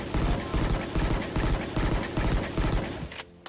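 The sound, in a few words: gun burst fire in the video game Valorant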